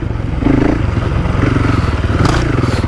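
A 2024 KTM 500 EXC-F dirt bike engine runs steadily under load while riding, loud and close, with a steady pulsing throb. Scraping and clattering come from the terrain.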